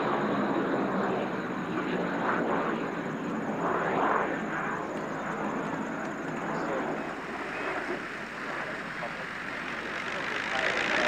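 A T-33 and a Czech-built L-39 Albatros jet fly past at a British airshow, a broad, steady roar at some distance while a narrator talks over it.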